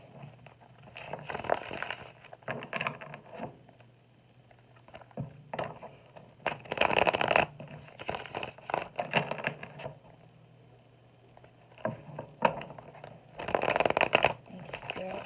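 Repeated bursts of tarot card shuffling, crisp riffling and flicking in short clusters separated by quiet pauses, close up with a faint low hum underneath.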